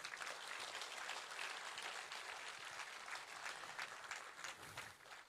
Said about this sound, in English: he deserves a bigger round of applause than that